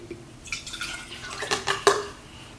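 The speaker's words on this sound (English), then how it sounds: "I'm going to pour this into this so we don't" Water is poured from one container into another during a homeschool volume lesson, a faint trickle with a few drips and light splashes, quiet and close.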